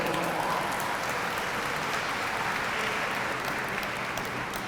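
A steady, sustained round of applause for sponsors fills a hall at a Hispanic Heritage Month opening ceremony, many hands clapping evenly throughout without letting up.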